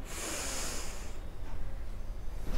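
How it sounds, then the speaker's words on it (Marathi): A slow, deep nasal breath before anulom-vilom pranayama, one drawn-out airy inhale heard close and fairly loud, fading into a quieter exhale. "हळूहळू दीर्घ श्वास भरा"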